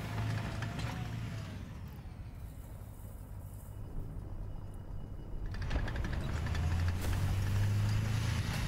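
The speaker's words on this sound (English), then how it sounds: "This thing revs a lot when it stops." A vehicle engine in a video game idles with a steady low drone, then rises in level as it revs toward the end, with no talk over it.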